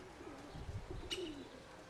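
Grey pigeons coo inside a dovecote, a low throaty call rising and falling near the middle, with a brief chirp-like sound and quiet room ambience around it.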